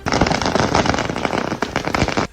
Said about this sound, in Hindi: छत्तीसगढ़ के सुकमा जिले में लोग सड़क पर पटाखे जलाते नजर आए।